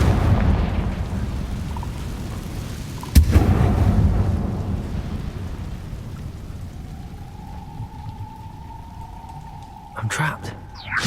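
Confringo blasting spell from Hogwarts Legacy bursting with a sharp broadband crack, then a rumbling fiery roll beneath a steady rain-like hiss, with a later thin tonal whine and a second rough burst near the end.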